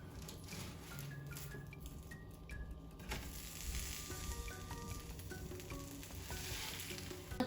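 Eggy toast fries in a pan with a steady, close sizzle and crackle that continues unbroken throughout, joined by a few faint clicks and no talking.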